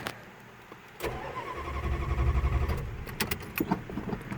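A 1987 Dodge Diplomat cranks briefly and catches, then settles into a rough, uneven idle close by, with a faint clatter at the start.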